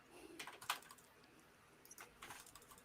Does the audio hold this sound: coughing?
no